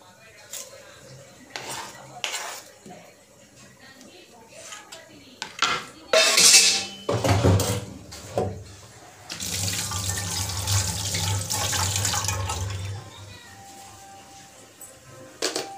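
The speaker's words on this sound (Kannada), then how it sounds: "ಪಾತ್ರೆ ಇಷ್ಟಿದೆ, ಪಾತ್ರೆ ಮಾಡಬೇಕು." Dishes, pots and cutlery clatter at a sink with running tap water, sharp clinks scattered early, then a rush of water and scrubbing, loud and close, with brief voices in between.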